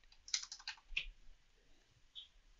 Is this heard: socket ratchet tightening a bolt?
no